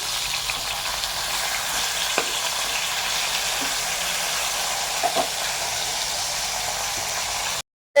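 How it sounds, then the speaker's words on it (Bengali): Steady, dense sizzling of rohu fish frying in hot oil, with a few small pops and crackles, continuous close by, cutting off abruptly at the end. "আর এদিকে আমাদের মাছটা ভাজা হচ্ছে"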